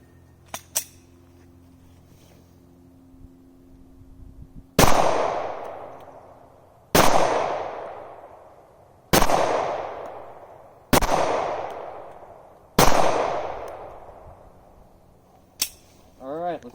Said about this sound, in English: So we'll go ahead and take some shots here and see how accurate she is.